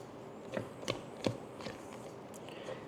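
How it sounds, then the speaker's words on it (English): A spatula scrapes blueberry cake batter with flour around the sides of a mixing bowl, giving a steady series of soft, close scraping strokes at a slow, even rhythm. "giving it a good scrape, getting what's on the bottom of the bowl"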